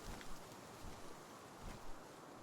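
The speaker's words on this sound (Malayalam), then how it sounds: "നല്ല കാറ്റുണ്ട് കേട്ടോ" Wind blows across the landscape in the Palworld video game, a steady broad whoosh with gentle swells, continuous and fairly loud with no voices.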